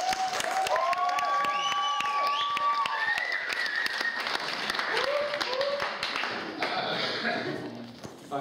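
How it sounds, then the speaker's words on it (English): Wedding guests applauding the best man, Chris, with clapping and cheering whoops rising over crowd chatter, the clapping tapering off as voices carry on. "big round of applause for Chris."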